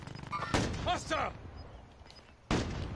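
Gunfire in the video game Juggernaut Royal: two loud broadband bursts, one early and one near the end, with a voice talking briefly between them.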